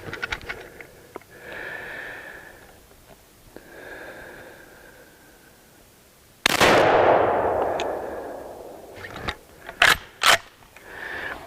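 A Savage 99EG lever-action rifle chambered in .300 Savage fires Remington Core-Lokt rounds: one loud, close shot with a long decaying echo, followed by sharp mechanical clicks and clacks of the action, with quieter handling and breathing noises before.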